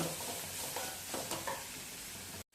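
Ingredients for a North Karnataka Betageri chutney fry and get stirred in a pan, a steady close sizzle with soft scraping stirs running throughout, no voices.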